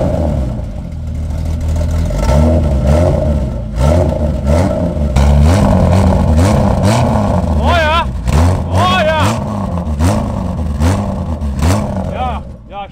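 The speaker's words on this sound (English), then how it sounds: "Give us some revs." A BMW E30 engine with blast pipes revs repeatedly with a rough, throaty exhaust note, rising and falling in loud bursts while people talk close by.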